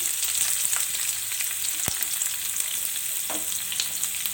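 Chopped onions hitting hot oil in a pan while cooking soya chunks Manchurian: a loud, steady hissing sizzle with a couple of sharp clicks from the utensil.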